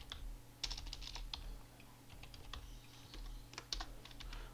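Keys clatter on a computer keyboard in irregular short bursts and single taps, close and fairly quiet over a low background hum while someone types commands in a Linux terminal.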